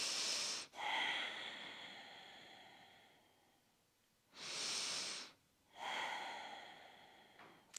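Deep, slow breaths during a posture-correcting stretching routine, three long airy exhalations with quiet pauses between them, close and clear with no talking.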